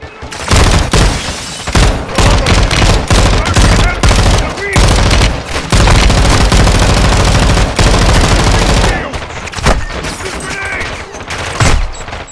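Gunfire in Modern Warfare 2 (2022), loud sustained bursts of automatic weapons fire with rapid overlapping shots and occasional booms, nearly continuous with brief pauses.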